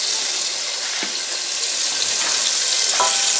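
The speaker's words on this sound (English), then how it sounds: "we've got a pan and we're adding about 100 grams of butter" Unsalted butter melting in a pan gives a dense, steady sizzle that fills the whole stretch, close and even, with a couple of faint clicks and no voices.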